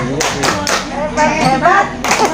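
Rhythmic group clapping of the 'tepuk hebat' cheer at an Indonesian primary school, SDN 222 Pasir Kota: a series of sharp, evenly spaced claps with voices chanting along.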